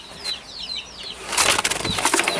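Canaries flapping their wings as they are let into an aviary, a few soft flutters at first and then a louder burst of rapid, close wingbeats.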